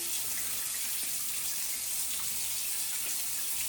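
Tap water runs steadily into a sink as hands are washed, a continuous close hiss and splash with no pauses and no talking.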